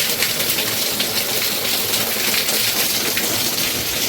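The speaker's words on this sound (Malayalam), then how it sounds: "നല്ല രീതിയിൽ മഴ പെയ്തു." Heavy rain pours steadily into the open central courtyard of a large Kerala-style house, a dense, continuous hiss of water with no voices.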